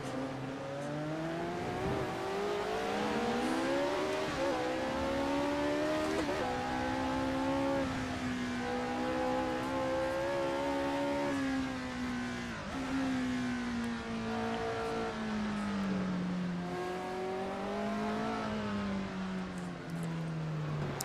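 A race car engine revs and shifts gears continuously in the Assetto Corsa racing game, recreating the Monaco Historique, pitch rising and falling through repeated upshifts, steady and loud.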